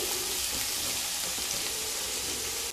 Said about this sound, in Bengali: এবার সবজিগুলো ভেজে নেব। প্রথমে দিয়ে দেব আলু, গাজর, আর দিয়ে দেব ফুলকপি।